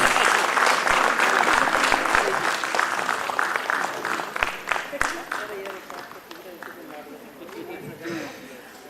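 Loud applause from a large crowd at a foundation day celebration, sustained dense clapping with a few sharper claps that gradually tapers while murmuring voices and chatter rise beneath it.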